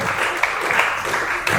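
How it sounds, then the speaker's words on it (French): Audience at an eloquence evening in Kinshasa applauds in a brief, dense burst of clapping with no voices over it. "Nous applaudissons pour Madame Marina."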